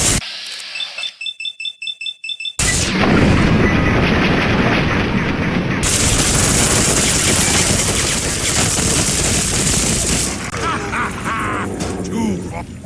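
Rapid gunfire rattles through a battle in Fallout 3, with a burst of clipped shots followed by long, dense, loud sustained firing and explosions, under occasional voices.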